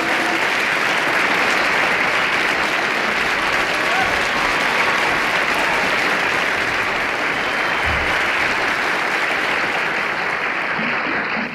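Audience at a comedy show applauding a comedian being introduced, a dense, steady roar of clapping and crowd noise that stays loud throughout.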